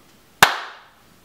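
A single sharp hand clap from one person, a crisp isolated slap with a short ringing room decay and quiet around it.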